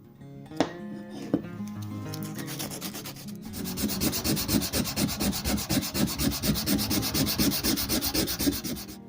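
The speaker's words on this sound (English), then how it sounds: "so that's the 150 grit. Not bad. It's getting a nice satin finish to it." A restored Millers Falls hacksaw's metal panels are sanded with 150 grit sandpaper on a foam sanding pad, giving steady rhythmic back-and-forth rubbing strokes, close and fairly loud, after a few brief knocks at the start.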